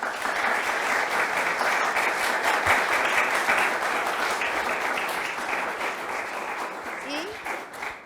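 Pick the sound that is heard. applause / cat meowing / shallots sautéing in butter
applause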